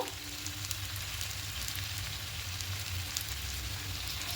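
Spices and salt frying in oil in a pan for a thin tilapia curry with papaya and potato, a steady close sizzle that crackles evenly throughout without talk.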